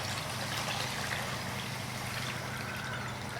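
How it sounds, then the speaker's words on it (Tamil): Water is poured into a mutton bone curry masala in a pot, a steady continuous wash of liquid running without break over a low constant hum, with no talking heard. "இப்போ தேவையான அளவுக்கு நம்ம தண்ணி சேர்த்துக்கலாம்."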